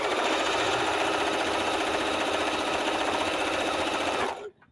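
A sewing machine stitching together precut quilt strips for charity donation blocks, running at a loud, steady, close whir for a few seconds before it abruptly stops.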